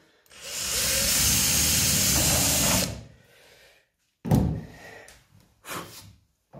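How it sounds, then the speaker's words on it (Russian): A power drill bores holes in a garage, one long, loud, whining burst followed by shorter spurts of drilling after a pause. "Ну и опять же засверливаемся очень примерно."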